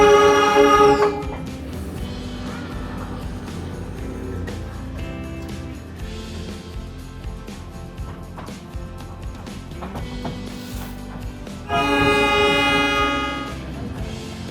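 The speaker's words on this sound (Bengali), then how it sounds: "আমার first time toy train ride" Darjeeling toy train running, with a loud horn blast at the start and another near the end over a continuous rumble and clatter of the moving carriages.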